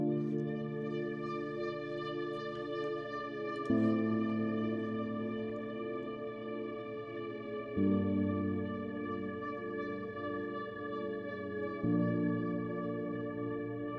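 Layered electronic production of a riser, an eerie synth pad and Omnisphere piano chords, sounding together as four sustained chord changes at a steady pace, quiet and smooth with no drums.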